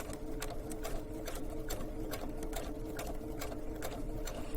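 A sewing machine fitted with a gathering foot stitches slowly through fabric, giving a soft steady whir with evenly spaced needle clicks, near and quiet, with no talk.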